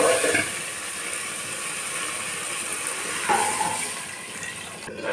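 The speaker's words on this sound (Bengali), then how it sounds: "সরষে বাটাটাকে একটু নেড়ে চেড়ে জল দিয়ে দেবো" Water poured into a pan of mustard paste during fish curry cooking, a continuous rushing gush with a bubbling sizzle, fairly loud and unbroken, ending with a short clatter.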